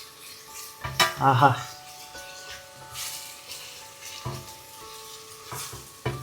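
Vegetables sautéing in a pan for a brinji rice dish, a steady soft sizzle with occasional stirring and utensil scrapes, heard under a brief exclamation and background talk.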